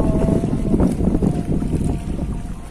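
Strong east wind blows over choppy water at a mullet fishing spot, a loud, steady rush of buffeting noise that sounds close to the microphone.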